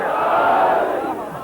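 A packed Muharram majlis crowd bellows its answer to the Nara-e-Haidari call, one loud, massed chant of many voices that swells and then tapers off within a second and a half.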